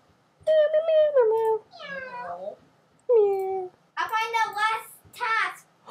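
A voice imitates a cat, giving a string of drawn-out, rising and falling meows with short pauses between them.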